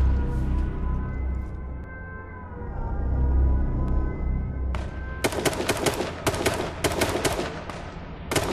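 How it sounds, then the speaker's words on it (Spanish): Gunfire in the video game H1Z1, rapid loud bursts of sharp shots arriving in the second half after a stretch of low engine-like rumble. "Me disparan."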